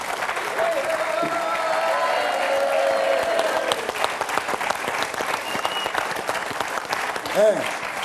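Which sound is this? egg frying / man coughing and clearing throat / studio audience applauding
studio audience applauding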